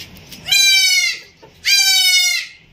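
A goat bleats twice at a desi goat farm in Hyderabad, each call loud, close and drawn out for about a second, with a short quiet gap between them.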